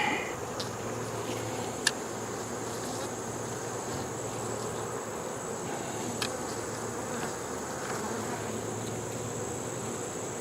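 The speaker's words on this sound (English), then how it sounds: "getting rid of a couple hundred of them will take a little tax off this hive, because as you can see, they're real busy bees" Honey bees drone steadily around a busy hive, a constant close buzzing hum with a couple of faint clicks and a soft tonal whine layered over it.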